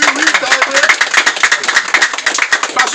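Applause and scattered clapping from an audience at a Haitian national political gathering, dense and close, with crowd voices running faintly through it.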